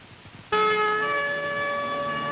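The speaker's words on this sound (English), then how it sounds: "Ambulance." Ambulance siren bursts in abruptly and loud after a brief quiet moment, a sustained wailing tone with strong harmonics holding steady to the end, heard alone without talk.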